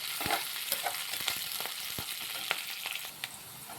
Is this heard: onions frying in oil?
yes